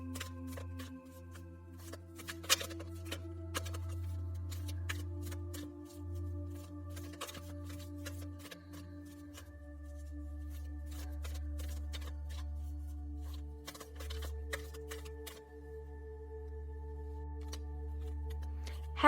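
Tarot cards being shuffled by hand in a steady run of soft riffling and sliding for most of the stretch, faint and close, over a low constant hum, with no talk.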